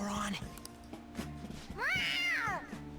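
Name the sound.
cat meowing in video game Persona 5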